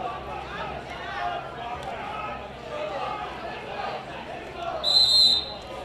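A referee's whistle blows at a high school wrestling invitational, a short shrill burst near the end, cutting through steady gym crowd chatter and talk.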